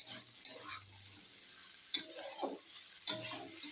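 Vegetable stems being stir-fried in a pan: a soft steady sizzle broken by three distinct scraping stirs of a spatula, close and fairly quiet, with no voices.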